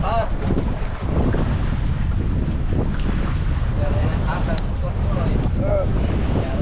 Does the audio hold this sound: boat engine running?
yes